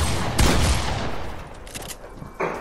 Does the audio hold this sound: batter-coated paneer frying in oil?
no